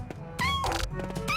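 A black cat meows in the video game The Walking Pet, with a few stretched, tonal meows over a busy game soundscape with thumps.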